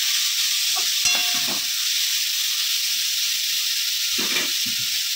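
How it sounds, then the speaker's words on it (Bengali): Cabbage sautes in a pan for stuffed paratha, giving a constant loud sizzling hiss like steam, with a few soft knocks and scrapes of stirring coming through close by. "কপিটা একটু ভালো করে সাঁতলে নিই"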